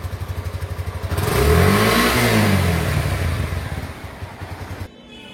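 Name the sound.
Suzuki Intruder 150 motorcycle engine revving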